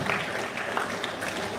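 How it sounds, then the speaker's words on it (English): Students and guests at a school investiture ceremony give a round of applause, a brief burst of continuous clapping, steady and moderately loud throughout. "Give a round of applause for them."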